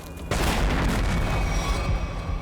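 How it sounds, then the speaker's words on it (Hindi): A sudden deep boom bursts in and rolls on as a sustained, heavy rumble, loud and close. "लगता है कहीं धमाका हुआ है"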